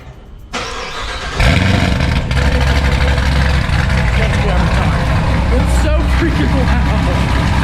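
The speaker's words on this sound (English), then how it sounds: "We're gonna get 2 ZR1 startups here in," A Chevrolet Corvette ZR1 engine cranks over and fires into a loud, deep idle. The roar swells sharply and then holds a heavy, rumbling drone close by.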